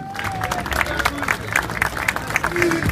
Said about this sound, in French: Je vais vous applaudir très fort, allez-y, applaudissez-vous.